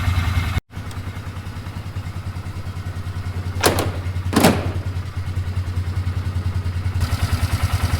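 A Polaris Ranger UTV engine runs after starting with a new ignition switch, a steady close rhythmic chugging idle with a couple of louder clattering bursts partway through.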